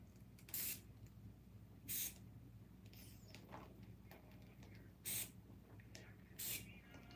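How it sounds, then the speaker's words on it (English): Adhesive remover spray hisses out in four short bursts about a second apart in a pair, then a pause, then two more, close and clear against quiet room tone. "adhesive remover spray from Edge Park"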